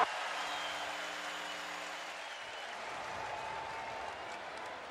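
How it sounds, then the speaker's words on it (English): A stadium crowd at a college football game, Central Florida Knights against South Florida Bulls, roars in a continuous broad wash of cheering and clapping, loud and sustained, with a brief tonal sound early on. "This is an electric crowd already."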